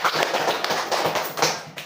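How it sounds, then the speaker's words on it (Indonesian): A primary-school classroom of pupils claps together, a quick, close run of sharp overlapping hand claps coming in uneven bursts, with no talking. "Tepuk tangan semuanya."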